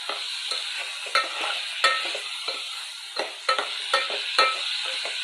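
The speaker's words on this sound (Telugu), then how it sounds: "చక్కగా ఫ్రై అయ్యేలాగా మిక్స్ చేస్తూ ఉన్నామండి ఒక నిమిషం పాటు." Salt and turmeric stir-fry in a hot pan with a steady close sizzle, punctuated by a spatula scraping and knocking against the pan about every half second, with no voices.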